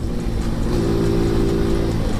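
A Suzuki Smash 115 motorcycle on a rocky ride, its engine running at steady moderate revs with a continuous droning buzz up close, no talking.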